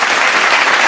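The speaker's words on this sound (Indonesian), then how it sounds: "tepuk tangan semua buat adik-adik kita" Audience at a cabaret drama performance by a youth theater group clapping for the young performers, a loud, close burst of dense applause, brief and without voices.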